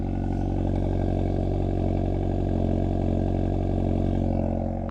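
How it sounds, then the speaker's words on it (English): The loud exhaust of a 2024 Hyundai Elantra N burbles and gurgles steadily at idle, close by, a deep rumbling drone with no voices. "I really like that gurgle from that exhaust."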